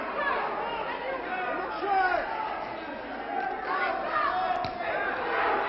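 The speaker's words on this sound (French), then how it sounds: "Vas-y Laurent, crie la foule." Crowd at a wrestling match, a dense hubbub of many voices shouting encouragement and chattering together, with a few louder surges of yelling, steady and moderately distant.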